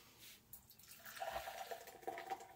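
Mountain Dew Passion Fruit Frenzy soda pours into a glass, a faint, steady liquid trickle and fizz that builds gently over a couple of seconds, quiet and close with no talking.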